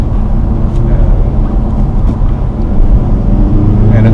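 A 2015 Volkswagen Golf Sportwagon TDI turbo diesel pulls under throttle, a loud, steady low engine drone from inside the car, swelling slightly toward the end.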